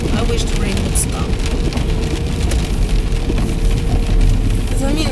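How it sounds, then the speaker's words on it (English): Heavy rain pours steadily, pattering densely on surfaces close by, with a low rumbling background. "Yeah, it's raining again, guys."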